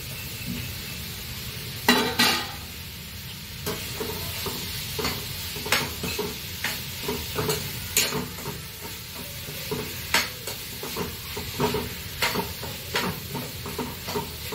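Okra frying in a pan for a vegetarian thali, with a steady sizzle broken by repeated clinks and scrapes of a spoon stirring against the metal, close and fairly loud.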